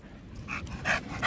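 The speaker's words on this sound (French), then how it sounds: "Regardez-moi ce chien, comment il est beau." A dog is panting close by, a quick run of soft breathy puffs with a few sharper breaths near the end, heard outdoors while travelling, with no voices over it.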